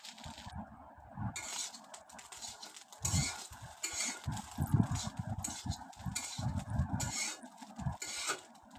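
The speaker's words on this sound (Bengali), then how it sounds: "যতক্ষণ ডিমগুলো ভালোভাবে ভাজি না হবে ততক্ষণ আমাদের নাড়তে হবে" Fish roe fried in a pan is stirred with a utensil, giving bursts of scraping and clinking against the pan over a soft sizzle, close and fairly steady with short pauses.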